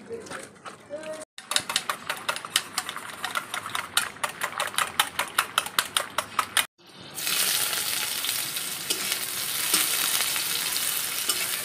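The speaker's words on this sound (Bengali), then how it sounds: "আজকেও ডালটা পেঁয়াজ দিয়ে ফোড়ন।" Onion sizzling in hot oil to temper dal, first with rhythmic stirring scrapes, then a loud steady hiss as the dal goes into the pan, with someone talking throughout.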